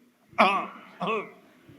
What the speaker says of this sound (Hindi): एक गला साफ कीजिए, पूरा एक नारा लगाएंगे, गला साफ कीजिए पूरा